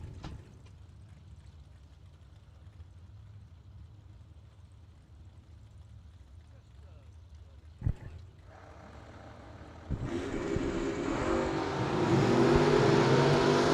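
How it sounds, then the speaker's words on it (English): Dragsters launch down a drag strip during a round of racing, with a wheelie car in one lane; a low engine rumble and a sharp bang build into a loud, roaring run that swells toward the end, heard from trackside. "All dragsters to the lanes for round 3."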